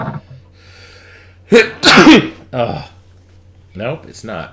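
A single sharp sneeze bursts out near the microphone, set among short snatches of conversational talk in a quiet room.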